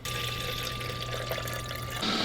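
Hot water poured steadily from a kettle for pour-over coffee, a continuous close splashing stream with a constant faint hum underneath and no talking.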